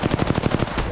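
Rapid automatic gunfire from an Apex Legends firefight rattles off in a steady burst of about eight close, loud shots across one second, with no talk over it.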